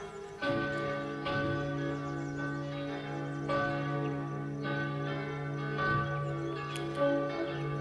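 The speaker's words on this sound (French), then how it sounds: "On pas fini de sonner les cloches." Church bells ring out in overlapping, resonant strikes, a rich ringing peal with lingering tones, moderately distant and steady.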